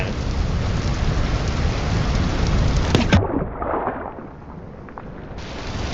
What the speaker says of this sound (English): the sound of the rain under the water